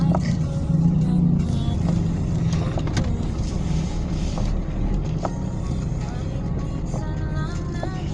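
Road traffic rumbles in a low, steady hum around a car stuck in slow traffic, with occasional clicks and bumps and people talking throughout.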